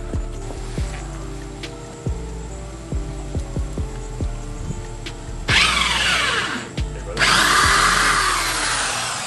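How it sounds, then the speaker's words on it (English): Scattered clicks and knocks give way to a power drill revving in two loud bursts, its whirring motor close by, drilling a hole while fitting a front lip kit to a 2015 Honda Civic Si. "We'll drill the hole that we need to drill"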